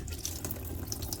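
Water runs from a Dometic faucet in an RV, a quiet, steady flow with small splashy spatters, heard alone.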